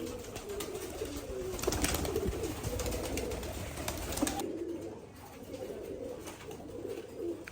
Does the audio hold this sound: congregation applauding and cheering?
no